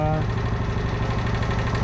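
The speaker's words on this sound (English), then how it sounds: "Just turn the bike on to turn the idle down a little bit" A Suzuki GN 250 motorcycle engine idling steadily nearby, turned down to about 1,500 rpm, with an even, rapid pulsing throb and no voices.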